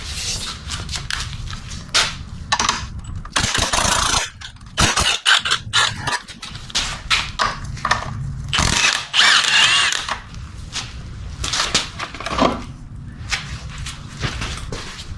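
A 17 mm wrench cranks the belt tensioner on a BMW E30 with an M50/M52-family 24-valve engine, producing loud close bursts of ratcheting clicks and metallic clunks in uneven spurts with brief pauses.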